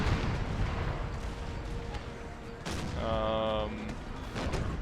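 Musket volleys and cannon fire from an Empire: Total War battle, heard as several booming bursts and crackling shots, some distant, over a steady battlefield din and a brief tonal game sound.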